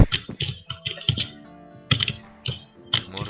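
Rapid computer keyboard clicking during a Minecraft session, close and crisp, with irregular bursts of keystrokes separated by short pauses and no talking.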